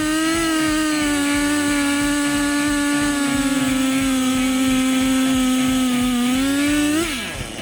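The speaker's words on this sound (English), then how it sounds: "This chainsaw is designed to deal with extremely difficult situations, from felling large trees to cutting thick wood." A Stihl MS462 chainsaw with a 32-inch bar runs at a loud, steady high-revving drone while cutting wood, the pitch dipping slightly before the engine winds down near the end.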